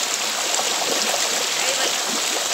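Tap water running steadily while a tomato face mask is rinsed off, a continuous close rushing splash with no pauses and no talking.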